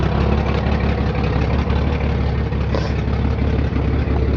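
A Ford Ranger pickup with a 2.8 engine idling, a steady, loud, slightly rough low rumble throughout with faint clatter, heard up close and alone.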